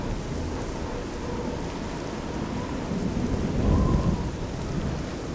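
Thunderstorm in a modded Oblivion game world: a steady hiss of rain with a low, rolling thunder rumble that swells toward the end. No voices are present.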